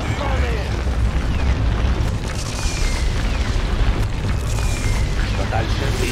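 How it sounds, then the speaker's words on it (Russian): An enemy orbital artillery strike in Dawn of War II Retribution lands as a continuous, loud booming rumble of overlapping explosions, with voices calling out over the barrage. "Вражеская орбитальная артиллерия!"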